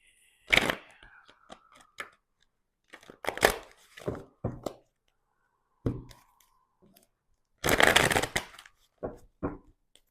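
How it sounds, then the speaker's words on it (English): Tarot cards being shuffled in several separate bursts, crisp riffling and flicking sounds close up, with quiet pauses between them. "I'm just gonna shuffle a bit"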